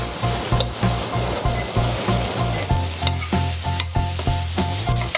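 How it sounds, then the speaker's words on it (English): Broccoli sautéing over high heat in a wok, steady loud sizzle with rhythmic scraping and clanking of a utensil stirring against the metal, close up and without talk. "I'm just going to saute this on high heat"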